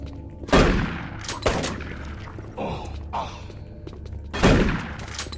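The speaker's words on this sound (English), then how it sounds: "that guy got shot by the other guy and was gonna start infighting" Scattered gunfire in the first-person shooter Doom 3: several heavy, booming shots spaced irregularly, with mechanical clanks and rattles in between, loud and close.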